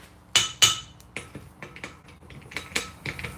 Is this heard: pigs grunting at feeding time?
no